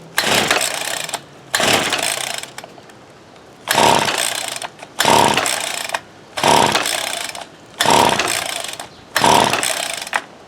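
A Ryobi SS30 string trimmer with a new spark plug and the choke on starts and runs in six loud bursts, each lasting about a second and cut off by short gaps, close up with no talk.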